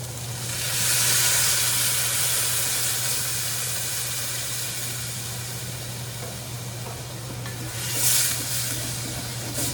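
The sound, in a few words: pan sizzling as veg stock deglazes bacon fond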